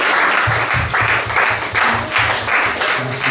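A church congregation applauding together during a worship service, with rhythmic unison clapping close and loud and a steady beat of roughly two claps per second.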